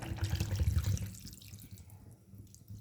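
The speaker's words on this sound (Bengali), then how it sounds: "এর ভিতরে আমি এবার একটু হালকা পরিমাণ মতন জল দিয়ে দেবো" A little water is poured into a pan of small fish on a stove, a brief close splashing trickle that fades into a quieter bubbling hiss.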